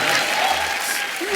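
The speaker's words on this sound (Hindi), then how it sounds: "ये बजा दो यार, तालियां बजाओ" Studio audience on a comedy talk show clapping in a steady wash of applause, with voices mixed in over the short burst.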